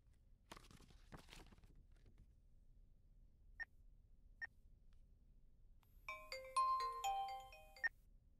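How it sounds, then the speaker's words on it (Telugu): A telephone rings in a 2019 Telugu feature film scene. Quiet rustling and two short beeps come first, then a loud melodic ringtone sounds for about two seconds near the end. "ఒరే మూర్తి, నేనే నీకు ఫోన్ చేద్దాం అనుకున్నాను రా, నువ్వే చేసావు."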